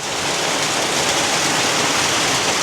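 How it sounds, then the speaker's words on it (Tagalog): Heavy rain pours down steadily over farmland, a dense, unbroken hiss that fills the scene loudly with no other sounds standing out. "Lakas ng ulan."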